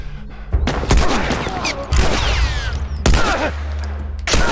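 Loud gunfire in The Last of Us, several heavy shots and bursts with booming echoes, each followed by ringing tails, one after another across the clip.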